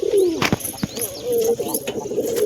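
A pigeon wearing a leg band coos in soft repeated low phrases at close range, with a few brief chirps and rustles in between.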